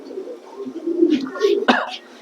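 A female pigeon offered for sale gives soft, low cooing in a few short phrases, close by, under someone talking.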